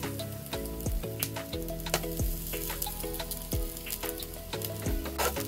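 Garlic sizzles in olive oil in a wok-style pan, a steady crackling fry running under louder background music throughout.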